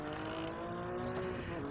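A Porsche racing car engine in Gran Turismo 7 hums steadily at a moderate distance, with a sustained tonal drone and faint higher whines, no voices.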